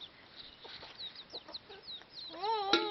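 A chicken clucks softly in scattered short calls, then lets out a louder drawn-out squawk near the end, close and fairly clear against light background noise.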